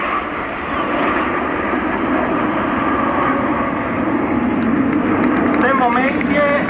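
The nine jets of the Frecce Tricolori aerobatic team fly over the 2011 air show in Italy, a loud, sustained roar overhead with a voice briefly heard beneath it.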